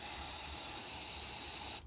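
Aerosol cleaner sprayed onto the CV joint of a VW T5 van, a steady close hiss lasting nearly two seconds before cutting off.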